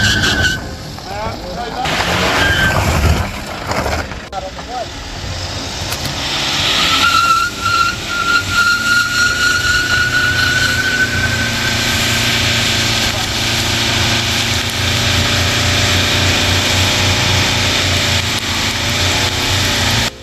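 An LDV ute on a burnout pad revs hard, its engine roaring and whining while the tyres squeal and scrub in a long, loud stretch, with voices speaking over it.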